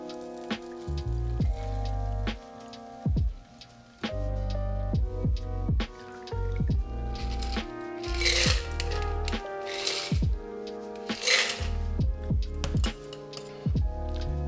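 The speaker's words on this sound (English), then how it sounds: "let's go ahead and double strain our drink" A daiquiri cocktail is double strained into a glass: a few bursts of liquid pouring through a fine strainer over steady background music, with no talking.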